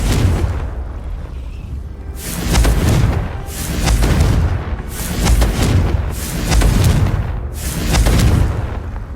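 Confringo blasting-spell explosions from Hogwarts Legacy go off as a series of about five loud, rumbling booms, spaced roughly evenly and each swelling and fading before the next.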